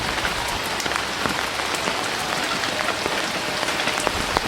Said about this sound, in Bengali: এমন ঝুম বৃষ্টিতে গ্রামের এই অসাধারণ পরিবেশ